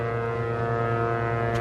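Foghorn sounding at Fenway Park during a foggy baseball game, a loud sustained low horn blast holding steady throughout with no break.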